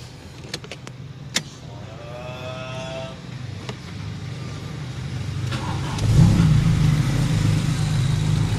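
Old Toyota Corolla engine idling steadily after starting, a low constant rumble that grows slightly louder partway through, with a few faint clicks and a brief whine near the start.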